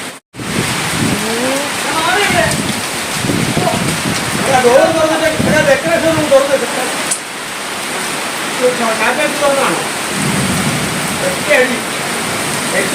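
Heavy summer rain pours in a dense, steady hiss close by, with a person speaking over it for most of the time.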